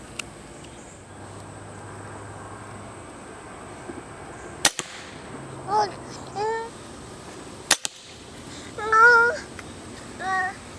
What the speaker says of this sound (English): So now we're going to shoot it one-handed.